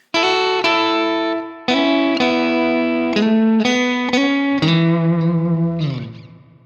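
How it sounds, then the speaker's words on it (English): A mid-gain electric guitar through a Line 6 Helix preset on the middle single-coil pickup, voiced like an old cranked Fender with light compression, plays a short lick of sustained, ringing notes and a final chord that fades out. "It's the sound of an old Fender cranked up loud with a little bit of compression on it"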